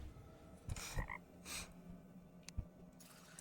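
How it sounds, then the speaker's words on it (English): A frog croaks in the Terraria video game: a few short, separate croaks and chirps sound quietly over faint game ambience, with no talking. "I heard a frog."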